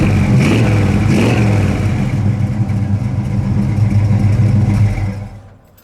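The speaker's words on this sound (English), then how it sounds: "For just a basic 350 4-barrel, it's got an awesome dual exhaust sound." A 1972 Chevy Nova with a 350 four-barrel V8 and dual exhaust revving loudly up close, a rumbling burble with a couple of throttle blips before it settles and fades at the end.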